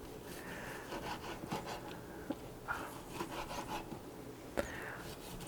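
A knife saws through a pan-seared rib eye steak against the grain in faint, steady rubbing strokes, with a few small clicks against the board.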